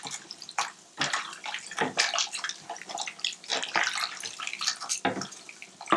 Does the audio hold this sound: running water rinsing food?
yes